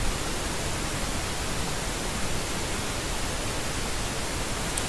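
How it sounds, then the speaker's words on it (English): A noise generator plays pink noise as a steady, dense, broadband hiss at a constant loudness, with no other sound. "Okay, I'll drop the pink noise."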